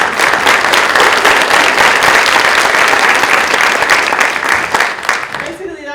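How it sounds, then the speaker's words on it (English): Loud, dense applause from an audience at a women's leadership symposium induction, sustained clapping for several seconds that thins out near the end as a voice begins speaking. "So let's give a round of applause for those trail ladies."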